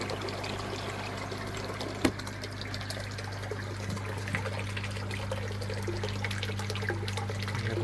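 Filter media in an aquarium tower bubbles and trickles steadily beside a low constant pump hum, with one sharp knock early on and no voices.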